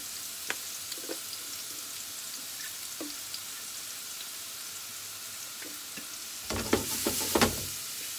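Vegetable semolina with ras el hanout and couscous spices cooking in a pan, with a soft steady sizzle, scattered light scrapes, and a burst of louder stirring near the end.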